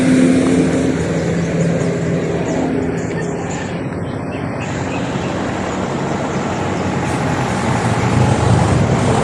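A truck passing on a road in Batangas, a loud, continuous engine and tire roar with broadband traffic noise holding steady throughout, close to the listener.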